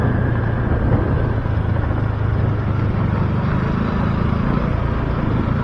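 A motorcycle engine rumbles steadily and close by on a provincial road during a fiesta, its low drone mixed with broad wind-like road noise and no clear rise or fade.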